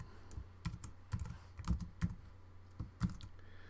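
Keys clatter on a computer keyboard as code is entered, a quick irregular run of close, crisp clicks with short pauses between bursts, alone without voices.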